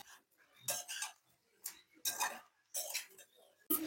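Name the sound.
stirring spices into prawn drumstick curry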